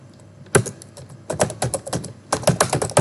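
Computer keyboard clatters with C++ code being typed, bursts of quick keystrokes separated by a short pause, close and clear with no talking.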